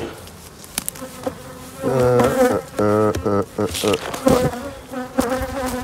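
Honeybees from an aggressive hive colony buzz loudly and close, a dense swarming drone with rising, wavering pitch that swells and dips throughout, with no talk over it.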